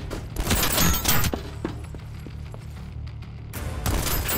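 Dense, loud bursts of gunfire in the video game Voidtrain, one rattling volley at the start and another near the end, with quieter scattered shots between.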